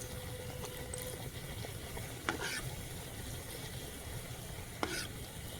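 Oil sizzles steadily around a Dhakai paratha frying in a wok, a continuous soft crackling hiss with a couple of sharper clicks and no voices.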